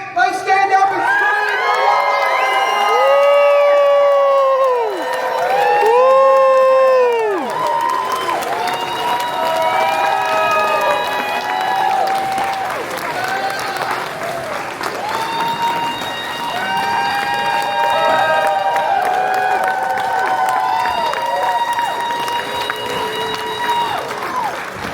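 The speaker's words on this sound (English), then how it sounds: "Let's stand up and scream!" A Q&A panel audience screams, whoops and cheers loudly, with a sustained roar of crowd voices and applause that stays strong and close for the whole stretch.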